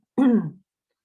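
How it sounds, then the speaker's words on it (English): A single brief throat clearing from a person recovering from COVID, a short rough cough-like burst, close and isolated in silence. "Sorry if I keep coughing."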